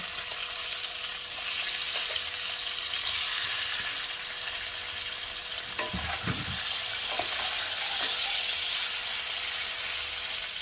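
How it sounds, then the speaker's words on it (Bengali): Prawns frying in hot oil in a pan, reused oil from frying fish for a Bengali prawn curry, give a steady bright sizzle throughout, with a few louder stirring clatters midway. "এবার ওই একই তেলে আমি চিংড়ি মাছগুলো ভেজে নেব।"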